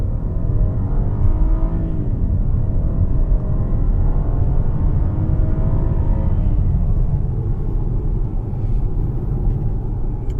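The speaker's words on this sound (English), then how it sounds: "0 to 60. 1, 2, 3. Woo! Wheel spin again." A 2018 Cadillac XTS launches from 0 to 60 with wheel spin, a loud, steady engine roar and road rumble heard from inside the cabin, the engine note rising and shifting across the pull.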